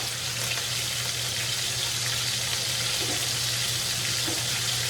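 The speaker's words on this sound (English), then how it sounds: "Rose geranium leaves, they're gonna go right in. Look at that, boom, boom. They're gonna snap, crackle, and pop." Rose geranium leaves fry in a hot pan for a quail and apple dish, giving a steady, dense sizzle with fine crackle that holds evenly throughout, close and fairly loud, with no voices.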